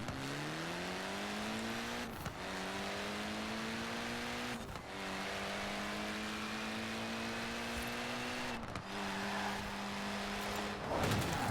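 A Ford AI car driving in the racing game Forza Horizon 4: a steady engine drone rises in pitch, then drops sharply at each of several gear shifts while accelerating, close and continuous.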